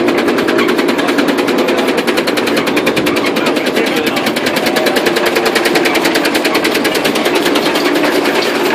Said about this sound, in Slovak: Podíváme se na motor, benzinová Slavie.